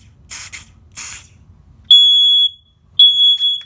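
Two loud, steady high-pitched electronic alarm tones from a home alarm system test, each held about half a second, following two short bursts of hissing spray.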